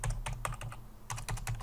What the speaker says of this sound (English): if I can only type